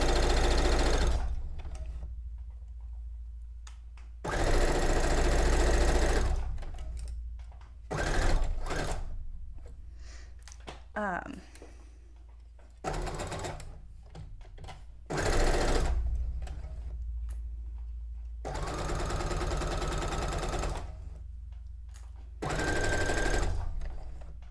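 A sewing machine runs a zigzag stitch in loud, steady bursts of rapid mechanical stitching, several runs separated by brief pauses, heard up close with no talking.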